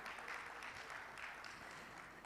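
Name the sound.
audience applause at TiECon Ahmedabad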